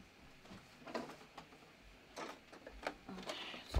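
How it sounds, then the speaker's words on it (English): A serger stitching in short mechanical bursts, whirring and clattering on and off at moderate volume with quiet gaps between runs. "I'm going to use the serger."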